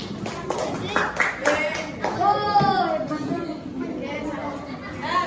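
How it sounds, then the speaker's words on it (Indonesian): Classroom applause for a student group, a burst of clapping from many hands mixed with chatter and voices, fading after a few seconds. "Berikan tepuk tangan untuk kelompok 3."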